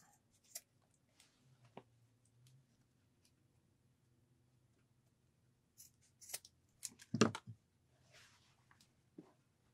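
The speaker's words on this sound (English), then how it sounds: "Let's go ahead and trim back some of this zipper now." Scissors snip back the excess end of a fabric zipper while sewing a zippered pillow, a few quiet, scattered cuts heard up close with no talking.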